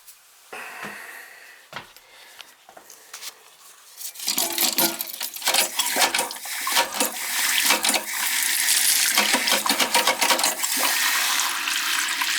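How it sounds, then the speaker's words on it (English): Toilet tank with a faulty fill valve, water rushing and gurgling loudly and steadily for most of the stretch after a quieter start with a few faint knocks. "Got a problem with the fill valve. I gotta change that. That's why it's not flushing."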